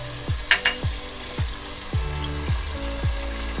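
Mutton pieces sizzle in a pan with added chili powder and turmeric, a steady frying hiss under a series of sharp, regular scraping strokes from stirring.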